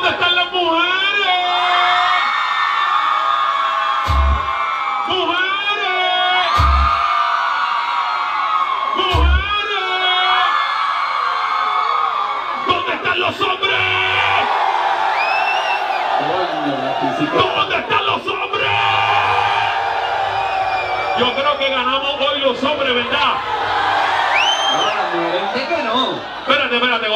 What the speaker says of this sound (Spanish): así los hombres y las mujeres van a gritar los dos juntos